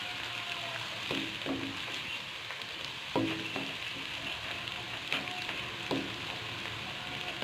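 Food sizzles steadily in a frying pan for an aloo anda curry, browning until golden, with a constant crackle and scattered knocks of a stirring spoon against the pan.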